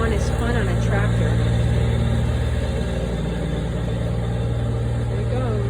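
A Kubota tractor engine runs steadily while mowing a lawn, a loud, continuous low hum with a constant drone and no breaks, close by throughout.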